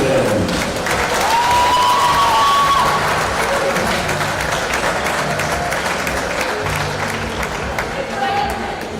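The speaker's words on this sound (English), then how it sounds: "One more big applause for national team of Great Britain." An arena crowd at a women's wheelchair basketball European Championship final medal ceremony applauds and cheers the Great Britain team. Loud, sustained clapping and cheering carry over an announcer's voice, with occasional whistles.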